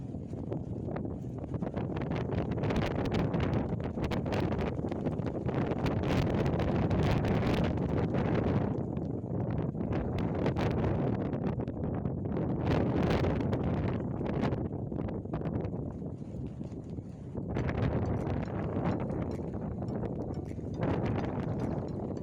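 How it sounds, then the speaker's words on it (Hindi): Strong mountain wind buffets the microphone at a high viewpoint in Spiti Valley, a loud, continuous roaring rush with surging gusts that barely ease for the whole stretch, and no voices. "आप विंड की आवाज़ से आप समझ सकते हो कि कितनी तेज़ हवा चल रही होगी"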